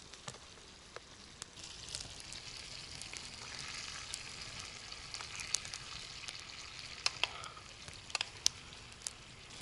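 Vegetables fry in a small frying pan, giving a steady soft sizzle with scattered crackles and pops throughout, close and moderately quiet, with no talking.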